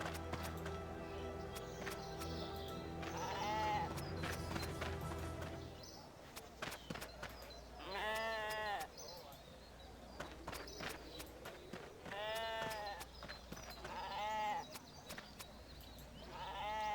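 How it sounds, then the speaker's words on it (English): Sheep in the video game RuneScape bleat several times in wavering calls spread across the stretch, with quiet footstep-like game sounds between them and no talking. "We're shepping your sheep, okay?"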